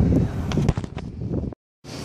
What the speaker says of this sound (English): it's probably windy. Really windy.